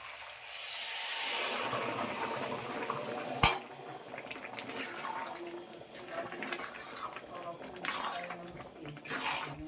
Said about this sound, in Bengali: এখন মা গরম জলটা দিয়ে দিচ্ছে